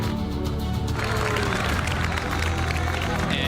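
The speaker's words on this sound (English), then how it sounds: "The crowd is going wild, and Samu has done it" A crowd at the Pokémon VGC Special Championships final in Seville cheers and claps in a loud, continuous roar that holds steady throughout, with a commentator's voice faintly audible beneath the noise.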